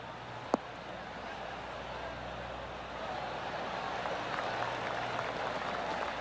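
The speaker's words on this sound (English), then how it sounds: "That deserves a golf clap" Golf gallery applause in PGA Tour 2K23 rises after a shot, a steady patter of clapping that swells midway and continues under faint commentary and ambient crowd noise.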